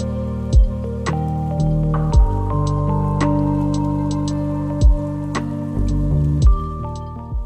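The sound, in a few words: water streams dripping from cave ceiling after rain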